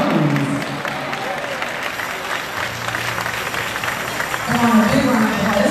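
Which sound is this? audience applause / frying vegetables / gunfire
audience applause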